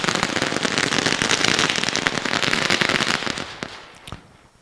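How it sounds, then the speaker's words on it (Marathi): Fireworks and firecrackers at a sports opening ceremony burst in a dense, rapid crackling barrage of sharp pops for several seconds, then thin out to a few scattered bangs as the noise fades. "फटाक्याची आतिषबाजी"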